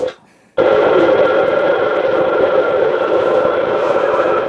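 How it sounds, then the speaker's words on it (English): A CB radio's echo and talkback function plays back a radio check on the AnyTone AT-500M II, a loud, continuous, boxy transmission that follows a brief quiet gap at the start. "the echo and the talkback functions are both working, so you can kind of hear yourself"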